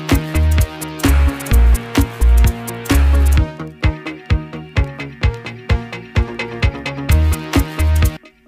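A stripped-down electronic track bridge where the other drums drop away and only the kick drum keeps pounding under sustained synth chords, loud and upfront, the kicks thinning into a sparser pulse midway.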